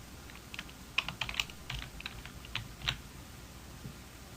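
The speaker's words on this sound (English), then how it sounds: "You can use the keyboard to correct the spelling of Cindy." Typing on a computer keyboard for dictation-software spelling correction in a medical practice setting: irregular bursts of light key clicks with a few louder taps, close and alone without speech.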